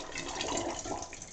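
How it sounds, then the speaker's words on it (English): A plunger is eased into toilet bowl water, giving a soft, continuous watery swish and gurgle at low level, close by with no talk. "you're going to gently push it into the bowl"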